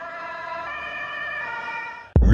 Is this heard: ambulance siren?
yes